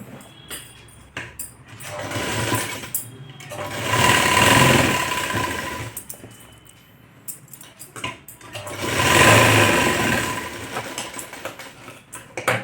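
A sewing machine stitches tucks on a blouse in two long runs that swell and fade, separated by quieter handling noises, close and fairly loud.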